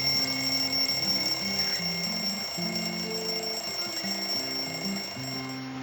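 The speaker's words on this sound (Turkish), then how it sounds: "Ata ile Ela soğuk bir sonbahar günü saatin ziliyle uyandı" An alarm clock rings continuously with a bright, repeating electronic melody, steady and fairly loud, with no voices.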